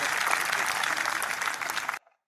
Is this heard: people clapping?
yes